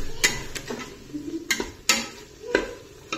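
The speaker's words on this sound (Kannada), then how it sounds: "ತರಕಾರಿ, ಕಾಳು, ಖಾರ ಎಲ್ಲ ಹಾಕಿ ಫ್ರೈ ಮಾಡ್ತಿದ್ದಾರೆ" At a food stall, vegetables, lentils and spices fry in a pan while a metal ladle strikes and scrapes it in sharp, irregular clanks over a low background sizzle.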